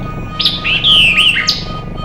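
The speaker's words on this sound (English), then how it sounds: "Here are my bird songs for study" Recorded bird songs are played back: a short, bright run of chirps and whistled tweets, loud and close, over a faint steady hum.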